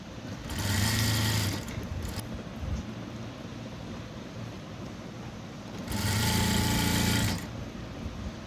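A sewing machine stitches a blouse in two loud runs of rapid, rattling needle strokes separated by a quieter pause.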